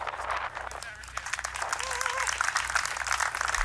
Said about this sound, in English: I just want to give a big round of applause for Rebecca